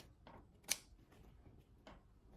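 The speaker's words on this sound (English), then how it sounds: "And I cut the thread." Scissors snipping sewing thread, a couple of quiet, close clicks with one sharp cut standing out near the start and no talk over it.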